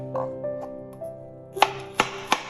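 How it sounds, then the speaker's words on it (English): A knife mincing coriander stems and roots on a cutting board, three crisp chopping taps near the end after soft background music notes, close and clear with no talking. "Mince the stem and the root part finely."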